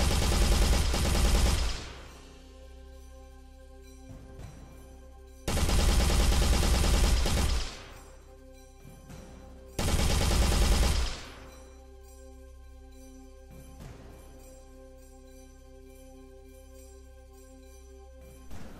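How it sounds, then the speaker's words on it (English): Full-auto assault rifle fire in an Unreal Engine 4 game demo comes in three loud sustained bursts of about one to two seconds each. Quieter gaps with a steady background hum separate the bursts. "you can see that the assault rifle is the default weapon with the full auto fire mode"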